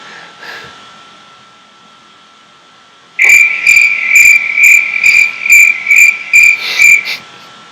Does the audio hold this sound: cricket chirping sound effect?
yes